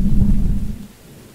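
Thunder from lightning in the video game Choo-Choo Charles, a deep rolling rumble that is strong for about half a second, then fades away quickly.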